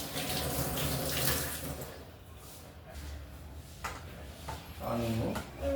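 Tap water runs into a kitchen sink during washing while preparing dosa and Bombay chutney, a steady splashing flow that shifts in strength with some clattering near the end.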